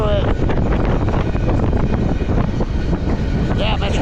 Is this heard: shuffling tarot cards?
no